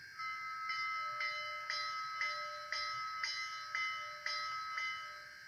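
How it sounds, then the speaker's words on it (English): A model train sound decoder's electronic bell rings repeatedly at a steady rhythm, about ten clanging strikes, thin and tinny, each decaying before the next. "F1 is the bell."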